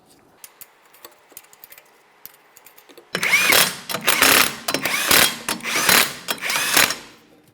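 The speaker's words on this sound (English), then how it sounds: "let's torque each one of our 21mm lug nuts to 76 foot-pounds" Torque wrench ratcheting as it tightens the 21mm wheel lug nuts on a 2014-2019 Toyota Corolla, with a quiet stretch first and then a burst of loud, close, repeated clicking strokes in uneven bursts.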